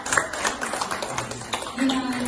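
An audience at an Indonesian school presentation claps in a quick, scattered burst, the applause mixed under a speaker's voice.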